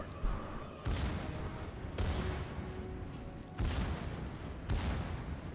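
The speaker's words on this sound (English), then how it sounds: "Torpedoes to port." Torpedo launches in World of Warships sound as several evenly spaced heavy thumps with rushing tails, muffled and fairly quiet, each one followed by a lingering wash.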